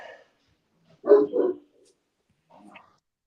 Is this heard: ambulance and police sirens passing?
no